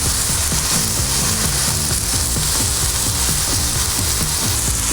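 Onion smash burgers sizzle loudly and steadily on a Blackstone griddle, a dense continuous frying hiss with faint crackles and low rhythmic pulsing underneath, close up with no talking.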